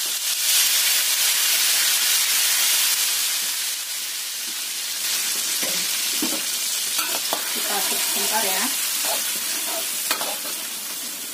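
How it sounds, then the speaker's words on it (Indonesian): Homemade chili sambal fries in a little hot oil, a loud, close, steady sizzle and hiss that later settles somewhat as stirring scrapes and clinks break through, with a brief spoken word partway. "Kita panaskan sedikit minyak. Kita masukkan sambal yang sudah kita buat tadi."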